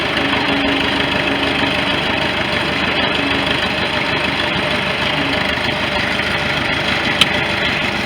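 A 1973 International loader tractor's engine runs steadily at idle on a farm, a loud, close, unbroken low rumble with a faint knocking texture and one brief sharp click near the end, no voices.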